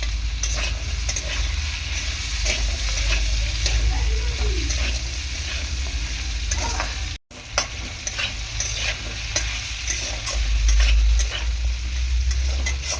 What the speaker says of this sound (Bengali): ভালো করে আলু আর টমেটো আর আদা এরকম তেলের মধ্যে নাড়াচাড়া করে নেবো